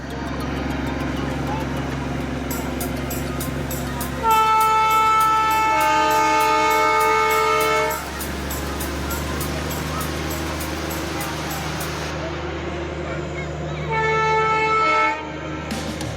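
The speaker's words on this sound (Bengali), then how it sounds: "এই যে দেখুন, এখানেও একটা টয় ট্রেন এসে গেছে।" A coal-fired Darjeeling toy train goes by in the hills, its horn sounding in two blasts, a long one and then a shorter one, over a steady rumble, with people talking throughout.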